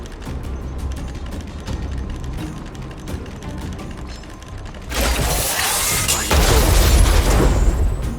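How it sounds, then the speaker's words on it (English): In the video game Honkai: Star Rail, a run of mechanical clicking and ratcheting gives way to a sudden loud explosion, a dense boom that swells and rumbles over the last few seconds. "Wiped them all out in a single explosion!"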